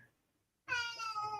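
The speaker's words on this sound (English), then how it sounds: "I hear that cat, so yes, he's annoying me." A cat lets out a single long, drawn-out meow, clear and close, following a brief quiet stretch.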